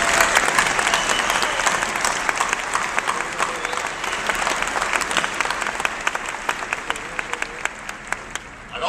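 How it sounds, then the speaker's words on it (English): A graduation ceremony crowd gives a loud, sustained round of applause for the faculty, dense clapping holding steady for nearly nine seconds before thinning slightly at the end. "Please join me in saluting our faculty with a round of applause."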